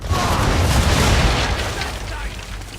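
Ship cannons firing a broadside in Assassin's Creed 3 on the open sea: a loud, sustained booming roar of several overlapping blasts that fades slightly toward the end, with a voice faintly under it.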